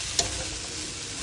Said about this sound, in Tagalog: I-mix well mo lang o mikos-mikos dyan